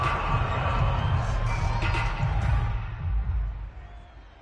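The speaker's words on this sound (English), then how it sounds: "And this crowd loves it as their guys hold on the opening drive." A stadium crowd in the Madden NFL 22 football game roars in a broad, steady wash of cheering that holds for a few seconds and then fades away toward the end.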